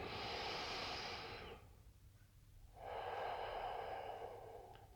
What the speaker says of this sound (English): deep cleansing breath in